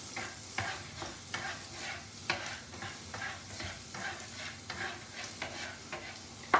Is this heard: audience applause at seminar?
no